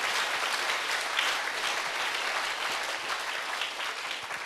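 Church congregation applauding during a Sunday worship service, a dense, steady wash of many hands clapping at close range that holds for several seconds without talk.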